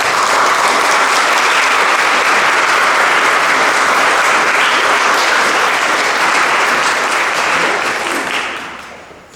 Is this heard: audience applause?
yes